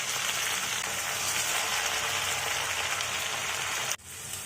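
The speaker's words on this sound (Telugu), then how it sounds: "ఇప్పుడు అదే మూకుట్లో మరి కాస్త నూనె వేసి ఈ యొక్క గోంగూరని శుభ్రం చేసుకున్న గోంగూర ఆకులు అన్నిటిని వేసి వేసుకోవాలి" Gongura leaves fry in hot oil in a pan, giving a loud, continuous crackling sizzle that cuts off abruptly near the end, then returns more softly.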